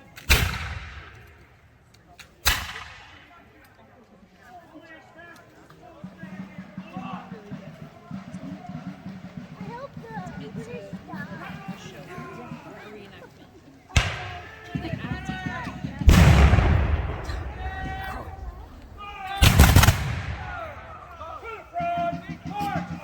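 Musket volleys at a Battle of Camden reenactment in South Carolina, with sharp loud broadband blasts near the start and two heavy booms later, separated by stretches of crowd noise and people talking.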